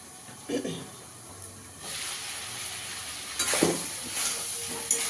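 Shrimp curry masala with ground spices being sautéed in a pan, a quiet hissing sizzle broken by a few louder stirring scrapes and bursts, with no speech.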